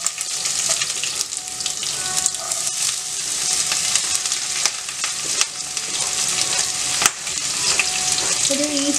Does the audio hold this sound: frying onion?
yes